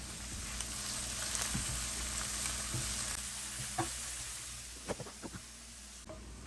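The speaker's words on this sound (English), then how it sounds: "what we're going to do is add our onions and then add our garlic" Onions and garlic fry in olive oil over low to medium heat for vegan meatballs, giving a quiet, steady sizzle with a few soft clicks near the end.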